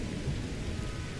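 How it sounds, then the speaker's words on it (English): Steady rain pours down with a low rumbling of thunder underneath in Skyrim, a continuous dense wash of noise with no voices. "It's raining out"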